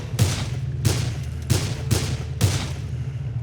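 Gunshots in the video game Dead Island: Riptide, five loud booming shots fired at a steady, evenly spaced rhythm, each with a sharp attack and short decay, with no talking.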